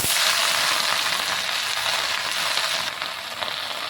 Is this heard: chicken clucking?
no